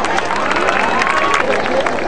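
Audience applauding at the coronation ceremony of the Expo Feria Isla 2011 fair, a steady wash of clapping and crowd noise that fills the whole moment without a break.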